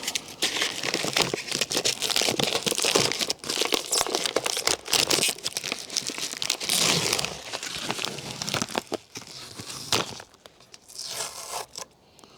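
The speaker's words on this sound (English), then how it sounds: "let's get all this plastic stuff off" Plastic packaging is torn and pulled off replacement wing mirror parts for a Range Rover Sport L320, giving loud, close, continuous crinkling, ripping and scraping that thins out near the end.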